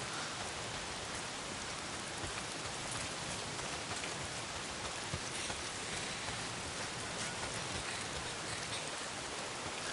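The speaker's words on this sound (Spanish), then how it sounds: "es la maldita lluvia. ¿Por qué siempre está lloviendo?" Steady, dense rain pours in the video game Days Gone, a continuous hiss of drops on surfaces across the whole stretch, with a brief line of spoken dialogue beneath it.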